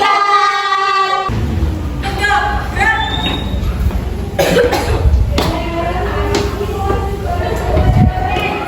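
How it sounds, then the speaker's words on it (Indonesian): Repeated coughing from a young woman, several harsh bursts close to the mic, mixed with talking and background room noise throughout. "Batuk terus nih."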